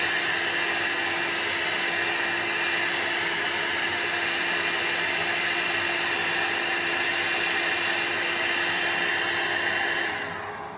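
Steady, loud air-blowing roar from a dryer running at a speed set by a Foredom foot pedal while working alcohol ink art. The tone stays even throughout and tapers off slightly at the very end.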